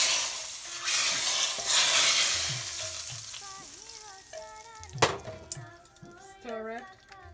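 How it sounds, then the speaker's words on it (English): Ingredients for yellow split pea and dumpling soup fry in a pan with a loud, steady sizzle that fades as a spoon stirs and scrapes, metal clinks and knocks against the pan, and brief tonal kitchen sounds appear near the end. "Fry it."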